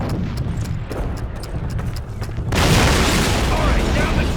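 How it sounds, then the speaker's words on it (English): A cannon boom in the Call of Duty video game: after a stretch of gameplay noise, a sudden loud blast hits midway and gives way to sustained rumbling, with a voice talking underneath. "This cannon's about to go boom!"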